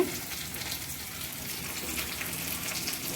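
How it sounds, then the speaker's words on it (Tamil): Curry leaves sautéing in hot oil in a pan alongside onion, dried red chillies, ginger and garlic for a pepper mushroom masala, giving a steady, close hiss of frying that holds evenly throughout with no talking. "கருவேப்பிலை சேர்த்து வதங்கிட்டுருக்கு இங்கே"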